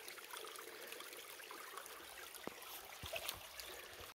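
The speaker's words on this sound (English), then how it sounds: "this canyon brought us to some water" A canyon stream gives a soft, steady trickling rush of flowing water with a few faint knocks and clicks, quiet and with no talk.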